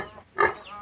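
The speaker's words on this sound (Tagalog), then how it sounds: "Native na baboy." A native pig gives a single short grunt at close range around the middle, with quiet outdoor farm background before and after.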